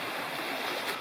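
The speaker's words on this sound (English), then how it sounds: "And finally, Little Wilson Creek" Little Wilson Creek, a small mountain stream in the Mount Rogers wilderness of Virginia, rushes steadily over rocks with a broad, even hiss of flowing water, close by and continuous with no voices.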